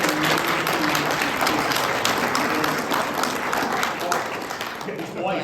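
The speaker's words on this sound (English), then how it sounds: "I think we need a huge round of applause for Virginia." An audience at a panel discussion gives a full round of applause, a dense, loud wash of clapping that runs steadily for several seconds before easing slightly, with some voices mixed in.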